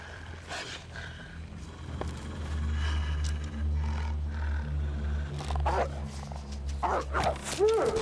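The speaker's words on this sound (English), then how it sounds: "I just heard another wolf" A wolf in The Long Dark, a few growling yelps and snarls near the end over low wind rumble, with a voice talking earlier.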